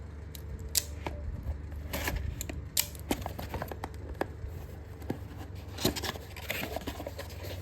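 An AC Delco Gold serpentine belt kit package for a 5.3 Chevy 1500 is cut open at close range, giving a string of crisp snips, plastic crinkles and clicking handling sounds.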